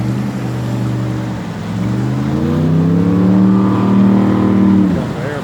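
An airboat engine runs loud and close on floodwater, a steady harmonic drone that swells and rises in pitch midway, then eases back near the end.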